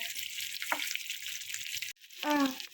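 Bitter gourd fries in hot oil with a steady, dense sizzle for nearly two seconds. It breaks off abruptly and a brief voice follows.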